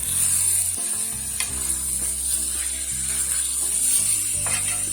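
Ingredients for chicken biryani, a Swahili dish with lemon zest added, are stirred in a pot with a steady scraping, sizzling sound that runs close and continuous throughout.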